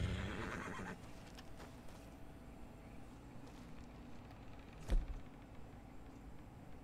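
A horse whinnies loudly at the very start of a scene in the video game Red Dead Redemption 2. Hoof clatter and game ambience follow, with a brief sharp knock near the end.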